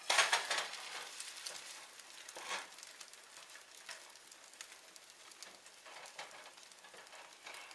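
Healthy French toast fries quietly in a pan, a faint continuous sizzle broken by a few soft clatters as it is flipped, close by and without talk.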